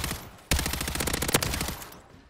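A zero-recoil gun build in MW3 Zombies fires a rapid, evenly spaced automatic burst of shots lasting nearly two seconds, sharp and close, then trails off.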